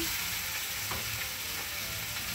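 Chicken pieces for Filipino chicken tinola fry in a hot pan, producing a continuous close sizzle with a brief stirring scrape partway through, steady and moderately quiet.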